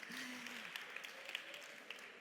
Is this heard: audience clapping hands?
yes